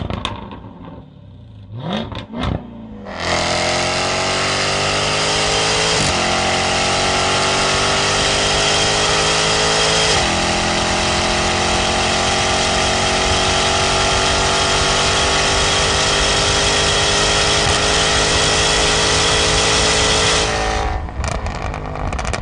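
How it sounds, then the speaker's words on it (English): Jaguar F-Type R with a titanium exhaust, the engine blipped a couple of times then held at a long loud sustained high-rev wail with gear-like pitch steps, ending with a drop back to idle. "hammer the throttle a fair bit to hear the titanium exhaust do its thing"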